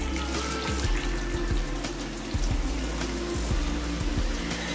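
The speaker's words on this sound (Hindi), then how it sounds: "और ऑयल हमने गर्म होने के लिए रखा था, जो कि अच्छे से गर्म हो चुका है। अब हम इनको आलू को इसमें डालेंगे" Potato pakora fries sizzle in hot oil, a dense, steady crackling hiss with frequent small pops and bubbling, close and continuous without speech.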